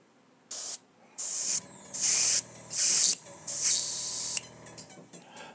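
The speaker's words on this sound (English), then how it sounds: "to learn how to clean your airbrush" An airbrush gives several short bursts of sharp, hissing spray while it is being cleaned. The bursts come close up and are separated by brief pauses, ending in quieter rustling.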